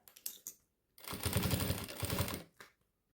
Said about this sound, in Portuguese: Agora, eu vou passar uma costura de segurança prendendo esses bolsos